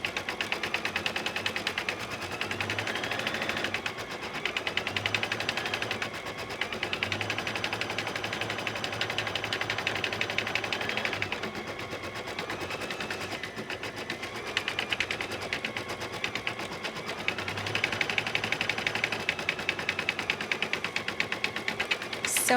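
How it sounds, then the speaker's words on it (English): An embroidery sewing machine stitches leaf designs in a hoop, with a rapid, continuous mechanical whirring chatter that holds steady at moderate volume throughout. "the machine is going to embroider out all of the leaves that you see in the hoop"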